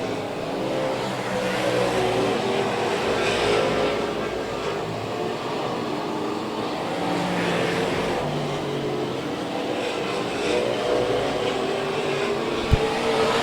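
Race cars circling an oval track, a steady, dense wash of engine roar that swells and fades as the pack passes, with no voices.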